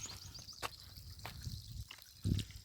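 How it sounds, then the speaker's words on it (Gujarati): Water trickles and drips from an air valve on a farm irrigation pipe fed by a motor pumping from a well, a faint, uneven dribble with a few louder splashes, with no speech. "અહીંયા પાણીનો એરવાલ છે અહીંયા પાણી નીકળે છે થોડું થોડું"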